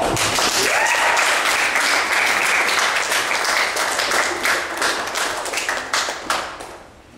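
A dense wash of audience applause greeting a guest at a poetry performance, loud and sustained with many overlapping claps before thinning out toward the end.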